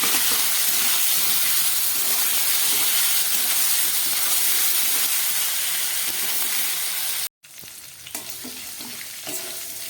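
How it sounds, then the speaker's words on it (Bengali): Ginger paste frying in a pan with salt and turmeric, a loud, steady, close sizzle and hiss with stirring that cuts out abruptly near the end, then resumes more quietly. "আদা দেওয়ার পর আমি আরও খানিকক্ষণ ভেজে নিলাম।"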